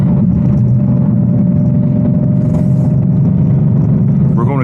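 Modified 810 hp RTR Mustang GT V8 rumbling loudly close up from inside the cabin while driving, its throaty low drone shifting with a downshift, with someone talking over the engine.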